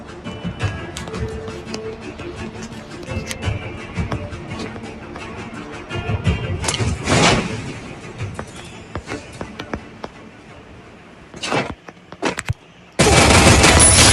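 Free Fire battle royale gunfire: rapid bursts and scattered single shots, some sharp and close, others more distant, with loud game effects bursting in near the end.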